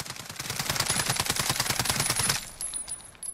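An H&K UMP45 fires one sustained burst of rapid, evenly spaced shots for about two seconds, loud and close, then cuts off into a short ringing tail.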